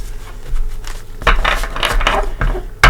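A few quick, close shuffles of cards, with crisp riffling bursts and a sharp snap at the end.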